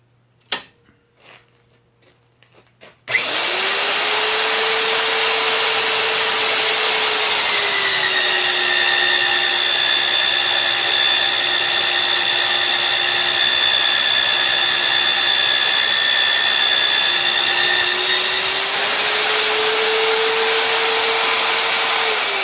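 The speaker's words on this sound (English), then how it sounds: "Magnet drill, I got this engaged right now." A magnetic drill bores through steel plate in a shop, starting after a few faint knocks and then running as a loud, steady whine with a shifting pitch that holds for nearly twenty seconds, with no talk.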